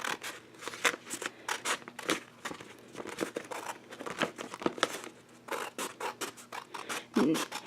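Scissors snip through Dollar Tree Scrabble tiles in a quick run of close, crisp cuts, with brief pauses between bursts.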